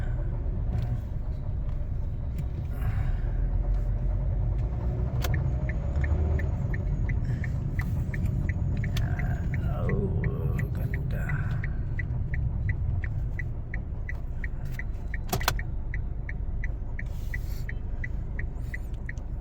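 Steady low rumble of car engines in slow traffic, with occasional squeals and a faint repeating tick, no voices.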